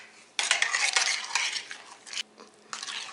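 A utensil stirs garam masala powder, white cumin powder and fresh lemon juice in a bowl as a beef chaap marinade. Bursts of scraping and clinking come up close, broken by short pauses.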